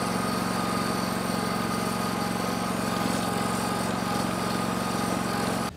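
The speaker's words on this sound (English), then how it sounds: "I'm gonna run over the trench a little bit here with the tractor." An old John Deere 318 garden tractor drives over a freshly filled trench for an underground dog fence, its engine running at a steady, loud, close drone with a constant low hum throughout and no talking.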